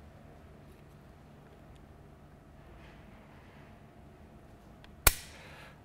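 A Sig Sauer 1911-22 pistol's trigger pulled against a trigger pull gauge, a single sharp metallic snap of the hammer falling near the end after a quiet stretch.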